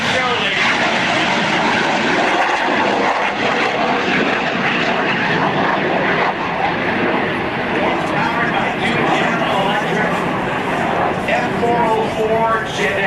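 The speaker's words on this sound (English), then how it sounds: "here goes the Nighthawk for one more pass" An F-117 Nighthawk stealth jet with two F404 engines makes a low pass at a 2004 Joint Services Open House air show: a loud, steady, broadband roar fills the whole stretch, with a public-address voice faintly beneath it.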